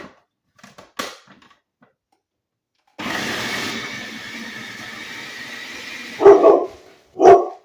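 A kitchen blender runs for about three seconds, whirring steadily as it mixes homemade dog food to a canned-food consistency, then stops. A dog barks twice nearby afterward.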